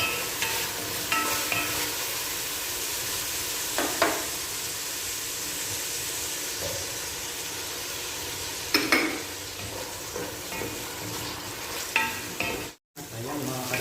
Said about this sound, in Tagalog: Pakakatasin natin yung ating kamatis.